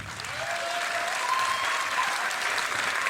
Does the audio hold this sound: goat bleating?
no